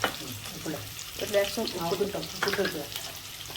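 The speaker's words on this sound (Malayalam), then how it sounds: "അപ്പോൾ നമുക്കിതൊന്ന് വറുത്തെടുക്കാം ഉള്ളി ഇട്ടിട്ട് കേട്ടോ" Peanuts, garlic, coconut and onion fry together for a brinjal masala, a close, continuous sizzle with stirring scrapes, a voice briefly audible underneath.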